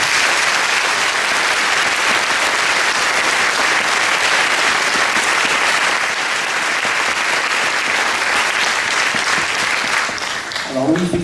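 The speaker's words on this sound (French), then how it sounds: "Et je pense que vous pouvez encore les applaudir." A concert audience applauds an orchestra with loud, dense, sustained clapping that fills the whole stretch without a break and only begins to thin at the very end.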